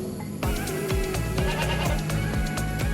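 Goats bleating repeatedly on a livestock farm, several animals calling in a steady overlapping rhythm, loud and close.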